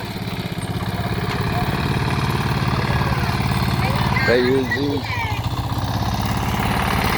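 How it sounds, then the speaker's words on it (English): A typical farm tractor engine runs steadily at a rice farm in the Philippines, a loud, continuous low chugging throughout with brief voices speaking over it. "This is a farm, typical farm tractor."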